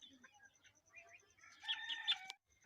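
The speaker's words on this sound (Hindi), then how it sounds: "ये कितनी मुर्गी हैं आप इधर जो पार रखी हैं?" Hens and a rooster on an egg-laying poultry farm, with faint clucking and a louder crow-like call rising briefly near the end, heard at moderate distance over a quiet background.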